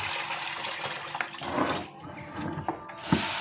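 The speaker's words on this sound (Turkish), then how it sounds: "durulayacak şekilde suyla yine yıkıyoruz." Peeled apricots that were soaked in lime water are rinsed under running tap water, a steady close splashing stream with small clinks and spatters, no voices.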